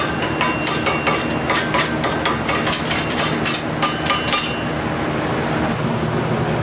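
Small putty knife scraping weld slag off a metal part for a tractor axle drive hub, a rapid run of sharp metallic scrapes and clinks up close that stops partway, leaving a steady shop hum.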